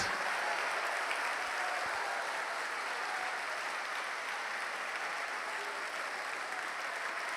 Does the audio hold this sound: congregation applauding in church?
yes